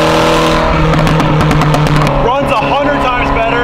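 Turbocharged convertible race car, its engine now making about 15 pounds of boost, driving hard: a loud, steady engine drone with rising and falling tonal whine and a burst of revving partway through, under talk.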